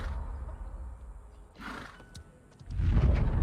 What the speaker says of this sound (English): No, he just gave us a horse.